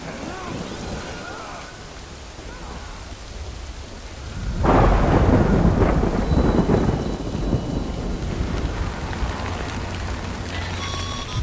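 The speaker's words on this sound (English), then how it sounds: "Good thing it was raining." Steady rain falls in the video game Death Stranding, with a loud rolling thunderclap swelling midway and fading into continued downpour; faint voices can be heard underneath.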